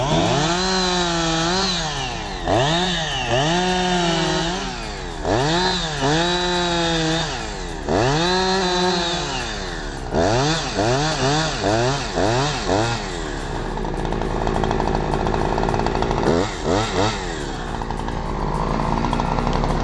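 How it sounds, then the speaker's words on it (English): A chainsaw cutting a tree into sections, the engine repeatedly revving up and bogging down in rising and falling surges, then settling into a steadier, rougher whine as it bites through wood, loud and close. "operating a chainsaw, and cutting the tree into perfect sections"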